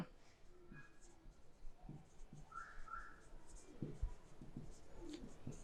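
Faint pen scratching on paper during an accounting lecture, with soft intermittent strokes close by and quiet room noise, no clear talking.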